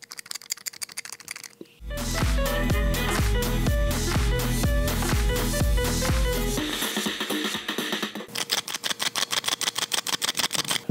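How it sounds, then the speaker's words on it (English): A fingerboard fitted with China trucks and washers rattles in quick, sharp clicking bursts, with a dense stretch of loud rattling in the middle and a fast run of separate close clicks at the end. "This has so much rattle to it and we haven't even put the wheels on."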